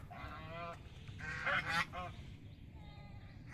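Ducks call in a run of nasal, honking cries over a steady low background rumble, moderately distant and fairly faint.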